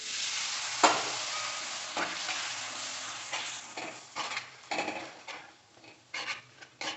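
Chicken roast masala sizzles steadily in a pan after water is added, with a sharp splash near the start and repeated scraping stirs building toward the end, no voices.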